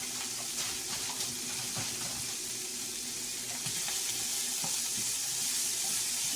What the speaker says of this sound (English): Let me get these tomatoes fried up a little better